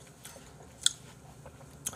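Someone chews crunchy apple kimchi close up, giving a few quiet, crisp bites and soft chewing sounds over a faint background hiss.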